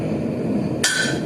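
A single sharp metallic strike of a hammer on metal at an anvil while forging a dinner bell, ringing briefly over a steady background hum.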